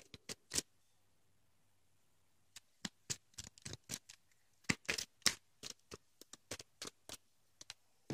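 A Pokemon card deck being shuffled by hand, a quick series of crisp close riffling clicks and snaps in uneven bursts against near silence.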